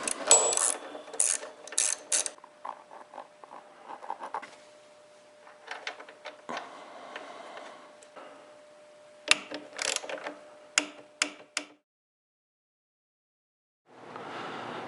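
A hand ratchet tightening motorcycle bolts on a Kawasaki KLR 650, with bursts of quick clicking ratchet strokes separated by pauses and small metallic handling noises, close and fairly quiet.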